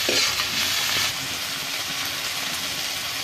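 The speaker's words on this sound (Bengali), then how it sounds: "হলুদটা দিয়ে বেশ কিছুক্ষণ এড়ে নেবো যাতে মশলা গন্ধটা চলে যায়" Turmeric and spices frying in a pan for a marigold-leaf kofta curry, a steady close hiss and sizzle with occasional stirring scrapes, no voices.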